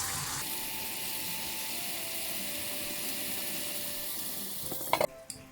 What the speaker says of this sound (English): I'm going to cover this with a lid and allow it to simmer